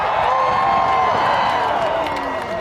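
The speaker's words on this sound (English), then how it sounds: "give him a big cheer" A large crowd at Silverstone's British Grand Prix media day cheers and whoops loudly and continuously, a dense wash of voices with scattered shouts rising over the noise.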